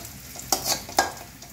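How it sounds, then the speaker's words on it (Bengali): Chopped onions sizzle steadily in hot oil in a pan, with two sharp scraping stirs of a spatula breaking through the frying hiss; close and fairly loud, no talking. "ততক্ষণে আমি এই পেঁয়াজটা ভেজে তুলে নিই।"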